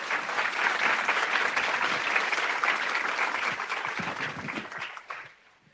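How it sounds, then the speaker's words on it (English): A big round of applause from a livestream event audience, steady and full for about five seconds before tapering off quickly into quiet. "So if we could give them a big round of applause."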